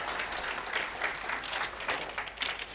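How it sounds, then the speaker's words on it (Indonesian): A church congregation breaks into applause, a fairly soft but continuous wash of many hands clapping that lasts a few seconds. "ini tepuk tangan untuk kebenaran Tuhan"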